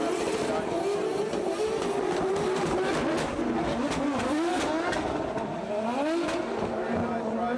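A race car slides through a drift competition run, its engine revving and wavering continuously and loudly, with crowd or commentary noise mixed in underneath.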